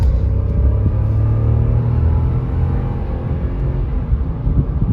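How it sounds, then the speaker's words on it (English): A 2011 Lexus LX570's 5.7-litre V8, nearing 200k miles, rumbles low and steady from inside the cabin, with only a slight swell under a light throttle poke and no talking. "Get another little poke of the throttle."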